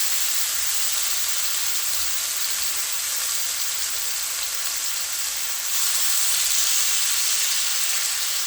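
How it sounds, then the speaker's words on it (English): Pork coated in blended seasoning sears in a pot with a steady, close, loud sizzle and hiss that keeps going the whole time and swells slightly toward the end, with no talking. "I am not frying it really. I'm just searing it."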